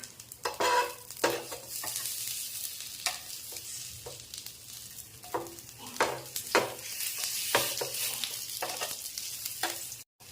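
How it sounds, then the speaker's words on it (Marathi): Two medium onions fry in a pan, a continuous sizzle broken by repeated scraping strokes of a stirring spoon, close and fairly loud, with no speech. "त्यानंतर आपण हा कांदा जो भाजून घेतले होते मी 2 कांदे मीडियम आकाराचे, ते पण आपल्याला याच्यावर थोडे फ्राय करून घ्यायचे"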